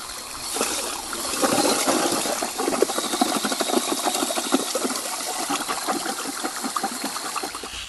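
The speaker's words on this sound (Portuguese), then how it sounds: "tu pode pegar um misturador de tinta, vai botar na furadeira" Electric drill fitted with a paint mixer churning clay and water for earth paint, a continuous whirring, sloshing roar that stays steady and fairly loud throughout, with no speech.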